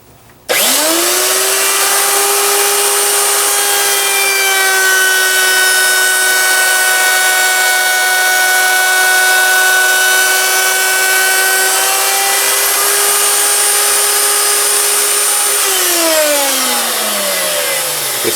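A loud power tool runs at a steady high-pitched whine for about fifteen seconds while cutting the edge of a wooden rubber band gun piece, then spins down at the end.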